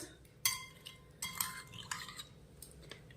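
Two spoons of sugar being gently stirred by hand into a sandesh mixture in a pan for orange-flavoured makha sandesh, giving a few soft, close metallic spoon clinks and scrapes over a quiet background.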